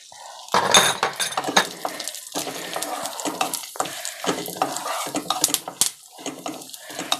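Cashews, raisins, almonds and roasted gram sizzle in a pan while a spoon scrapes and clatters against the metal in quick, uneven strokes, close and moderately loud.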